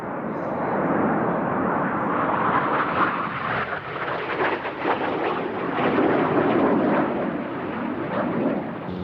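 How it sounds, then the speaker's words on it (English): A Frecce Tricolori jet sliding backwards in a tail slide at the 1995 RAF Fairford air show makes a loud, sustained roaring rush of engine noise that swells and wavers over several seconds, with no voices heard. "I don't know anybody else who does a tail slide like this. The aircraft's actually going backwards here for a long way before he falls out of the sky."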